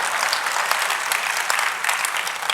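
Sustained, dense clapping from an audience at an event with Delhi CM Rekha Gupta, steady and fairly loud throughout with no voices over it.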